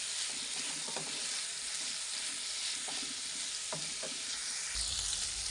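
Chicken and chopped capsicum fry in a pan with a constant close sizzle. Occasional soft scrapes and stirring taps sound over the frying, and there is no talk.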